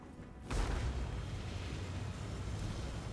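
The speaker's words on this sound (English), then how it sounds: "steam tanks sitting over there, just opening fire" Steam tanks opening fire in the strategy game Total War: Warhammer 2, a loud low boom erupting after a brief lull and rolling into a sustained rumbling battle din of blasts and crackle.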